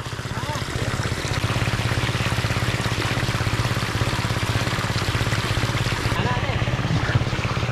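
Water gushes strongly from an opened outlet on a farm, a loud continuous rushing flow with a faint rhythmic pulsing beneath it, while people talk over it.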